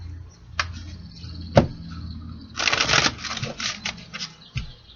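Tarot cards shuffled in the hands, a dense papery riffle burst in the middle with a few sharper card taps and knocks before and after, close and fairly quiet, with no talking.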